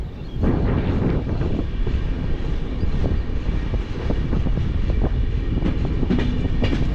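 A train runs through Namkum station near Ranchi, its steady rumble and faint clatter of wagons holding loud and close for the whole stretch.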